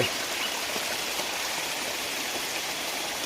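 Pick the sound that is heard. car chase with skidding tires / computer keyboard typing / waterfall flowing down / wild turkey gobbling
waterfall flowing down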